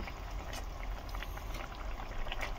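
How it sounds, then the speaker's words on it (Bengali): Fish pieces dropped one by one into simmering curry gravy for a Bengali fish jhal, a steady bubbling sizzle with soft splashes running throughout, close and fairly quiet, with no voices. "মাছগুলো এবার দেখো আমি একে একে দিয়ে দিলাম ঝোলের মধ্যে।"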